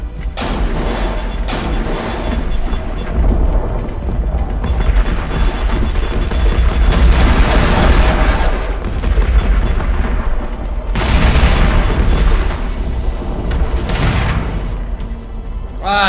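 Heavy explosions from a Corvette ship firing on the player in Angels Fall First, loud booming blasts and rumbling impacts recurring over a constant din of space-battle noise.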